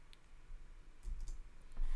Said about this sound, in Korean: 이렇게 컨트롤 C를 눌러서 꺼줍니다